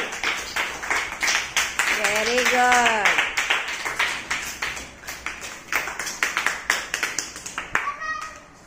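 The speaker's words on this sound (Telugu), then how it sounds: "క్లాప్స్ కొట్టండి" A class of schoolchildren claps together in a quick, uneven patter lasting several seconds, with a teacher's voice speaking briefly over the applause.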